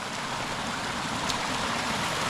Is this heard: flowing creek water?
yes